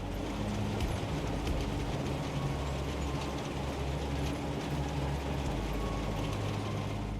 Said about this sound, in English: the dough mixture rides on this conveyor belt that sends it through an auger